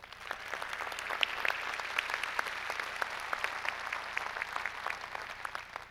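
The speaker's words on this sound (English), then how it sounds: "EDA, workforce, a round of applause" A county event audience claps steadily at a State of the County address, a dense, even patter of many hands with a faint low hum beneath, no voices.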